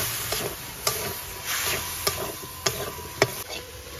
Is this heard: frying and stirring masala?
yes